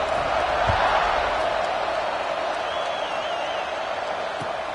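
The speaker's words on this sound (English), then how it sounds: "this crowd is buzzing after that last score" A football stadium crowd hums with a broad, steady roar of many voices after a score. It is even and sustained, with faint claps and shouts inside the wash of noise.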